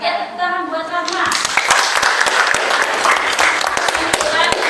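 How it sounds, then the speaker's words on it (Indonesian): A classroom full of students bursts into applause for a classmate after a brief moment of quiet; steady, close, lively clapping from many hands continues to the end, with some voices mixed in. "tepuk tangan buat Rahma"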